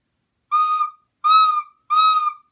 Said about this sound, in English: If I just blow, here's what it sounds like.